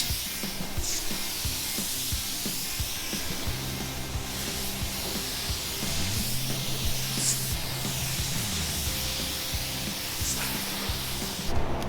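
A spray gun laying medium coats of paint on a 1983 Toyota Trekker gives a loud, steady hiss of atomized paint that runs without a break, with no talking.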